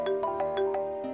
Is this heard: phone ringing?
yes